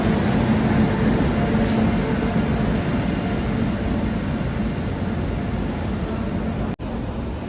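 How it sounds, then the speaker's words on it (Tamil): A passenger train arriving at Pune station, a steady loud rumble and hum of the moving train heard close on the platform, continuous throughout with a brief dropout near the end. "ஸோ ட்ரெயின் வந்துருச்சு, வாங்க உள்ளே போகலாம்."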